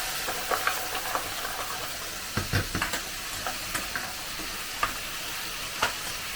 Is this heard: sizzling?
yes